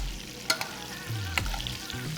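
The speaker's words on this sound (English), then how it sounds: "Just slowly baste it" A steak is basted in a sizzling pan, with steady frying hiss underneath and a couple of sharp spoon clinks against the pan.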